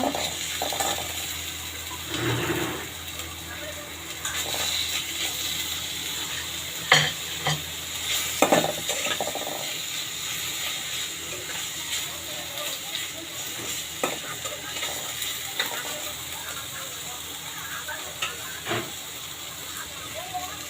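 Ginger and cumin paste frying in a pan while being stirred, part of a mung dal murighonto with rohu fish head, giving a steady sizzle with scattered spoon scrapes and clicks; a voice may talk faintly at times.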